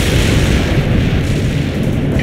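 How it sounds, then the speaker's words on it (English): An artillery barrage in a war video game sounds as loud, continuous booming explosions, deep rumbling blasts that roll into one another with no break and no voices. "Barrage hit for full effect."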